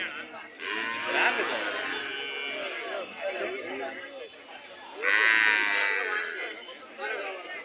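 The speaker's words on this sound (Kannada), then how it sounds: "ಗಣಸಿ ಸಂತೆ ದನಗಳ ಸಂತೆ ಈಗಾಗಲೇ ಸಂತೆ ಸೇರಿದೆ" Cattle low and moo at a busy open-air cattle market in Gandasi, Hassan district, while a crowd chatters and calls continuously throughout.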